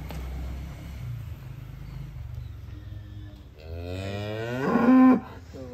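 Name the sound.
cow mooing at cattle contest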